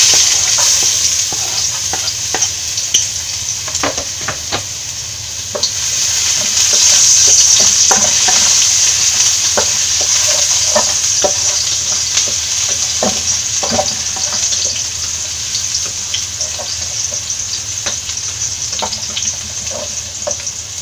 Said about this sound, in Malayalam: എണ്ണയൊക്കെ ചൂടായി വന്നിട്ടുണ്ട്. ഇതിലേക്ക് 1 ടേബിൾ സ്പൂൺ വെളുത്തുള്ളിയും 1 ടേബിൾ സ്പൂൺ ഇഞ്ചിയും ചേർത്ത് കൊടുക്കാം.